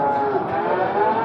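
Cattle at the Barda livestock market let out a single sustained, loud low moo close by, filling the whole short moment with no voices over it.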